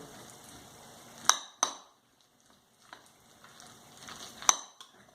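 A spoon stirs a salad mixture with mayonnaise in a bowl, giving soft, quiet scraping and squelching broken by a few sharp clinks against the dish, with no one talking.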